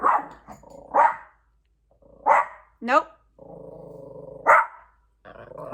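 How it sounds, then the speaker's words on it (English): A small pet dog named Brooklyn barks and growls at the door in several short bursts, close by, with a longer sustained whining growl between barks and a person speaking briefly. "Every time I go to push stop on my recording, she stops barking"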